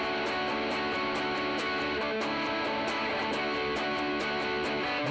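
Overdriven electric guitar chugs through the gainy B-section riff of a song alongside drums, a steady, dense wall of distorted chords with regular rhythmic accents, fairly quiet and continuous with no talking.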